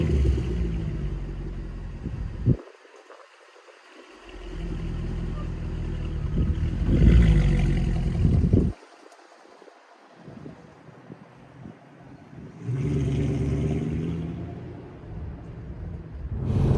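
A BMW M140i hatchback on the move, heard from inside as a low engine and road rumble with wind buffeting, cutting out abruptly twice into near silence before returning.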